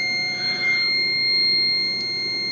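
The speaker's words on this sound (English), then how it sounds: "You can hear the alarm." A CCTV DVR in alarm mode after a PIR sensor trigger, giving a steady high electronic buzzing tone that holds continuously, moderately loud, with no talk over it.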